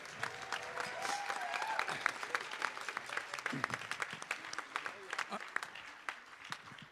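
An audience at a youth jazz orchestra concert gives a round of applause, scattered, crisp claps mixed with murmuring voices and crowd noise, heard fairly faintly and steadily over several seconds.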